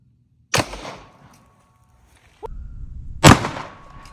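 A Springfield Echelon pistol fires a 9mm Hornady Custom round into ballistic gel outdoors, a sharp nearby crack with a short decay, then a second loud report a few seconds later over faint background rustle, with no voices.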